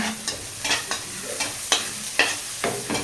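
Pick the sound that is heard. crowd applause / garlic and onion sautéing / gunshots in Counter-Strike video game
garlic and onion sautéing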